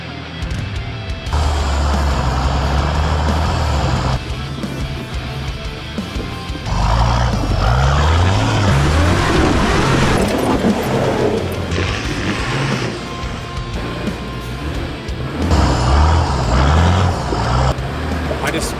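A 4WD climbs a rocky step on an off-road track at Toolangi, its engine labouring and surging in loud low bursts as throttle comes on and off, with clunks and crunches from the wheels over the rock.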